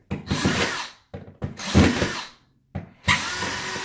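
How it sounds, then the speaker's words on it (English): A DeWalt 20-volt max brushless drill runs in three short bursts while installing a round mirror, each spin lasting under a second with brief gaps between, close and clear with no talk. "today we are going to install a brand new mirror with our DeWalt 20-volt max brushless drill"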